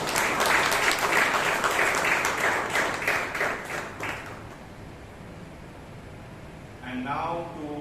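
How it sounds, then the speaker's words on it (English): Audience applause at a Toastmasters club meeting in Bangalore, a dense burst of clapping that fills the first four seconds and then fades out, followed by a voice starting to speak. "can we give Toastmaster Ratan and Toastmaster Varun a huge round of applause?"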